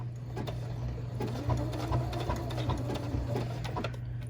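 Sewing machine stitching a hexagon appliqué onto a quilt block, a steady close mechanical hum with fast rhythmic needle ticking running evenly throughout and no voices.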